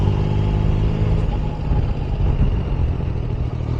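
A motorcycle engine runs loud and close for the whole stretch, a steady low rumble with slight swells in revs and no talking over it.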